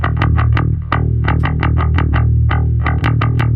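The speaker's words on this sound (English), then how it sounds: "So I just pushed a bit of distortion, bit of sub, compressed it a bit." A gritty bass with added distortion, sub and compression plays a quick rhythmic riff of punchy notes, dense and compressed with a heavy low end, no voices.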